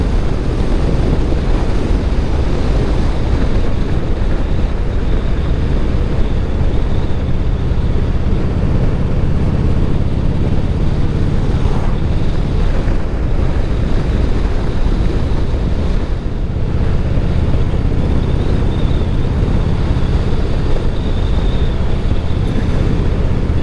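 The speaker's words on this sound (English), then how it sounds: "that wind is strong" Strong wind at the Staller Pass roars steadily and loudly against the microphone for the whole stretch, a dense unbroken rush with no voices over it.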